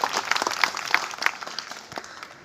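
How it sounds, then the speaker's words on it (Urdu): A meeting audience claps to welcome health department officers, a patchy burst of applause from a modest crowd that thins out over a couple of seconds. "کم سے کم تالی بجا کر ان کا استقبال"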